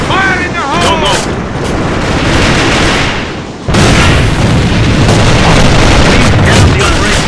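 A grenade blows up in the online shooter A.V.A (Alliance of Valiant Arms), heavy booms and gunfire-like blasts pounding throughout, with a sharp jump in loudness partway through and shouted voices over the battle.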